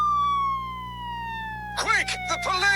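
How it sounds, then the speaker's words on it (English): A police car siren outside wails steadily as a single falling tone, then voices break in over it toward the end. "It is a police car."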